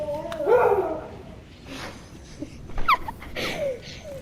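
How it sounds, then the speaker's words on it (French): A dog behind a gaming streamer gives short whimpers, yips and a couple of barks at close-to-middle distance, interspersed with breathing and quiet background noise. "il y a mon chien derrière moi, du coup désolé si vous entendez des coups de chien"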